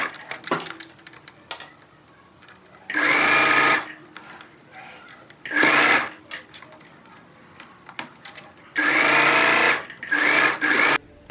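Sewing machine stitching a seam on a midi skirt panel, running in three loud, sustained bursts of about a second each, separated by quieter handling and rustling of the fabric.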